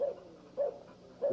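A champion-sired hunting dog kept in a yard gives three sharp barks spaced about half a second apart, fairly close and moderately loud, with quiet gaps between them.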